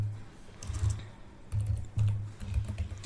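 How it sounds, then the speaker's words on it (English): Close laptop keyboard typing in short bursts of soft key taps with brief pauses, as commands are entered on an HP laptop running Windows 11. "type all these commands carefully and hit enter to execute them"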